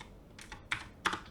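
Computer keyboard typing in short bursts, three quick clusters of clicky keystrokes, close and fairly quiet, with no voices.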